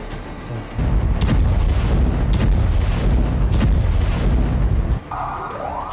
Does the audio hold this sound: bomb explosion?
yes